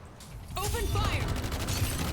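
A burst of video game gunfire crackles as a volley, the shots running together into a dense roar under a voice and short whistling tones.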